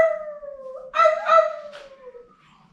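A voice imitates a distant wolf's howl in a live performance: one long, drawn-out falling tone that swells midway and fades away, heard alone in an otherwise quiet room.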